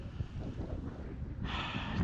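Strong wind buffets a drone microphone in cold, gusty conditions, a steady loud low rumble of wind noise that persists throughout with a brighter hiss rising near the end.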